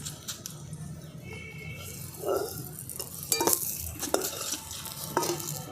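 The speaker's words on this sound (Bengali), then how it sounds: "এরপর নুন হলুদ মাখিয়ে রাখা মাছগুলোকে ভেজে নিচ্ছি।" Fish rubbed with salt and turmeric sizzles in a pan of oil after eggplant has been fried, with soft continuous frying hiss punctuated by scraping stirs and clinks of a utensil against the pan.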